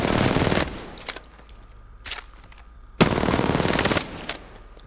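Automatic weapon fire in the Apex Legends video game comes in two long rapid bursts of loud shots, separated by a couple of short single pops and quiet gaps.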